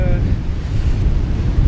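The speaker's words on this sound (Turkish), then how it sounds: "hava güneşli, güçlü bir rüzgar, deniz güzel." On a sunny day by the sea, a strong southwesterly wind buffets the microphone over the wash of breaking waves, a loud, continuous rushing roar.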